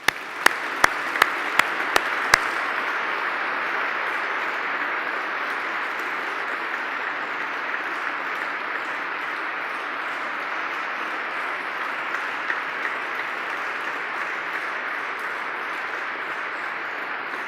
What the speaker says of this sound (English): let us please offer a profound round of applause